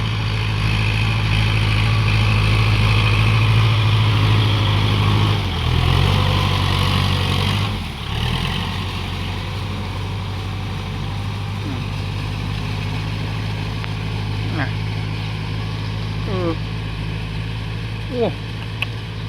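Kubota L5228 tractor engine running steadily while tilling a flooded rice paddy, a loud continuous diesel drone close by with a slight dip midway.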